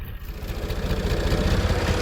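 A tractor engine runs steadily at low revs while laying plastic in a spring field, a continuous low rumbling drone with a faint rhythmic pulse, close and even throughout.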